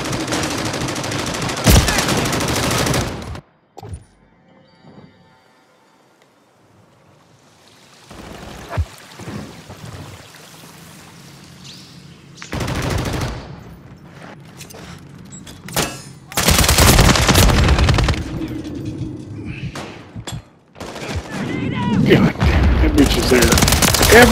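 Bursts of automatic gunfire from Call of Duty: Modern Warfare 3 multiplayer, loud rattling volleys separated by quieter gaps with faint game sounds and occasional in-game voice callouts.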